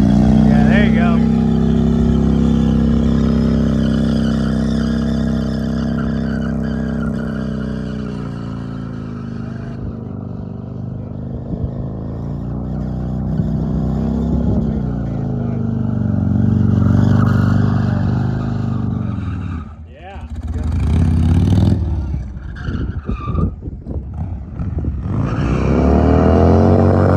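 A stunt motorcycle engine held at high revs during wheelies at an amateur stunt competition, a loud, steady droning roar that rises and falls with the throttle and briefly dips before blipping back up.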